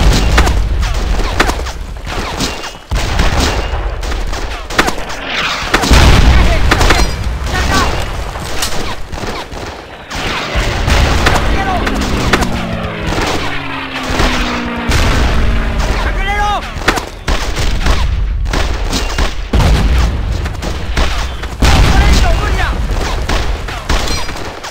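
Grenade blasts and rattling rifle fire fill a World War II battle in the Brothers In Arms 2 mobile game. The booms and dense volleys stay loud and nearly constant throughout, and a voice talks over the combat noise.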